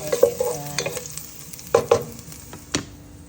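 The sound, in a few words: garlic sautéing in a pan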